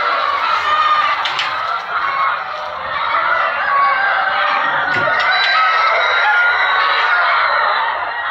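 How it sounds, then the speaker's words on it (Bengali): A poultry farm full of chickens, a dense continuous chorus of clucking and squawking from many birds filling the space, loud and unbroken. "তো এই যে আমাদের মুরগি।"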